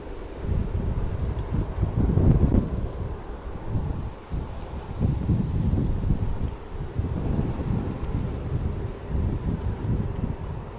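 Steady breezy wind at Manchester Airport buffets the microphone with a continuous low rumble, swelling into louder gusts every few seconds with no voices over it.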